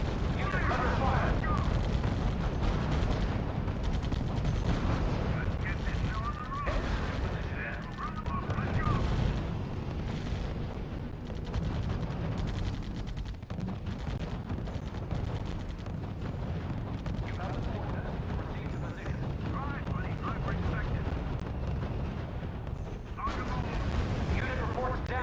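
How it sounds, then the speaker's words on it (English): Sustained gunfire and artillery from a real-time strategy war game, dense overlapping shots and booms forming a continuous loud battle din, with voices heard intermittently over it. "Unit under sustained fire."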